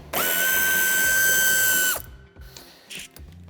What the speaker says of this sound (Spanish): quitamos el tornillo que sujeta el paragolpes de cabeza de 8